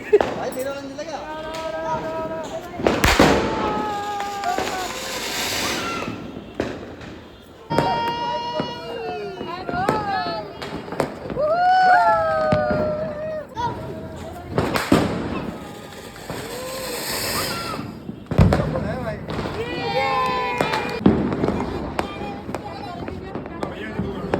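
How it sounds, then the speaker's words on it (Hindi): Diwali firecrackers go off in several sharp, loud bangs and crackling bursts, spread out between stretches of excited voices and shouting that run through most of the scene. "यहाँ पे दीदी और हम सब अब पटाखे जलाने की तैयारी कर रहे हैं"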